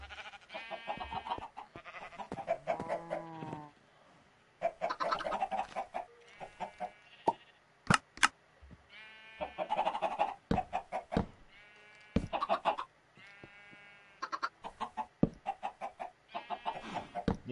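Minecraft chickens cluck repeatedly in bursts of short, fairly close calls, with clicks and brief pauses between them.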